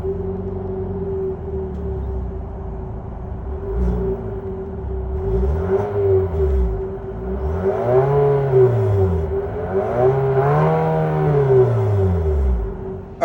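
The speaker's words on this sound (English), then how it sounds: "that was of course the sound of the 2-liter VC turbo engine sold by Infiniti and Nissan" A 2022 Infiniti QX55 with its 2-liter VC turbo four-cylinder starts and settles into a steady idle, then is blipped several times, its pitch swooping up and back down in rising, falling revs, recorded up close with no talking.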